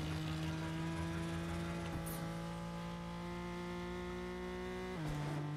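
A steady, droning car engine in a video game hums at a constant pitch, shifting briefly near the end, with no talking.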